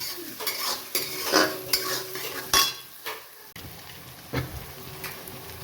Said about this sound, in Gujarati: ડુંગળી બરાબર તેલમાં બટરમાં શેકાવી દઈએ.